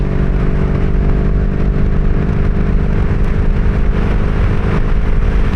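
A 1982 Honda Magna V45 motorcycle cruising at steady throttle, its V-four engine giving a constant, loud droning hum with steady wind rush and no talking.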